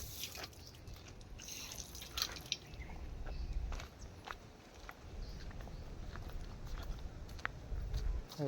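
Water runs and drips from an outdoor drinking-water tap during the monsoon, a steady wet patter with scattered drops and nearby footsteps over continuous background noise.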